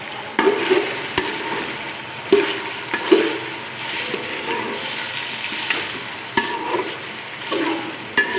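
Carrots browning in a pan with chicken for chicken fried rice give a steady soft sizzle, broken by sharp clinks and scrapes of a spoon stirring against the pan, close and clear with no talking.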